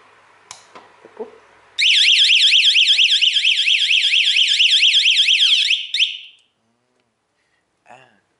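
A loud warbling electronic car anti-theft alarm wails steadily for about four seconds, preceded by faint clicks and a short chirp as the car is locked, then stops abruptly.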